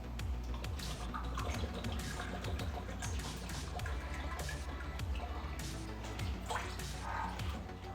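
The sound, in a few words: water being poured into a pan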